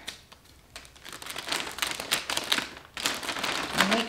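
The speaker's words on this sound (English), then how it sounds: "Since these are jeans, I will put a little extra tape on here." Packing tape pulled and pressed onto a mailer package of jeans: crinkly plastic rustling and tearing screeches, close and moderately loud, with a longer stretching rip near the end, no talk.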